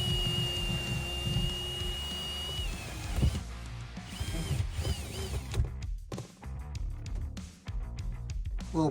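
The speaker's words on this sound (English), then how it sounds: "I am going to be drilling a hole for the" A power drill whines while cutting a hole in a truck camper, loud and close at first, then fading into softer mechanical clatter and short bursts of grinding.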